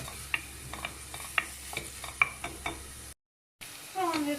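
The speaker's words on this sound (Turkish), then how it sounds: "Bir tane soğan, iki diş sarımsağı doğradım. ve bunları soteliyorum." Chopped onion and garlic sizzle in a pan while a utensil scrapes and taps in a steady stirring rhythm, then a brief silence and a louder burst of sizzling.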